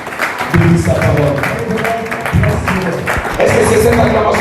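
A church congregation at an intense prayer service claps and cheers in a loud, continuous wash of applause that swells and holds throughout, with voices mixed into the crowd noise.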